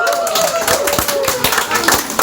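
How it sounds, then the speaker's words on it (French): Applause for the painter at an art exhibition opening in Le Touquet-Paris-Plage: a short, dense patter of hand claps from a crowd, heard close, with voices talking through it. "je crois qu'on peut l'applaudir"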